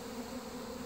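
A steady, close swarm of honeybees humming during a removal from a mobile home, a continuous buzzing drone heard alone with no talking.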